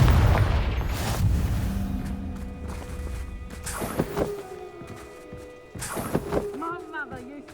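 Confringo blasting spell exploding in Hogwarts Legacy, heard as a few booming bursts with crackling tails amid game combat effects and a character's voice.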